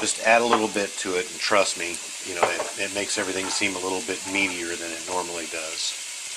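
Steady sizzling and crackling from a hot frying pan of stir-fry noodles with onion powder added, running continuously beneath a person talking close to the microphone.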